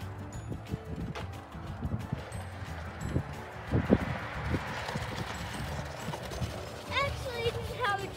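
A young horse's hooves clip-clop steadily while it pulls a sled through snow, with wind, creaking mechanisms and people talking over the rhythmic footfalls.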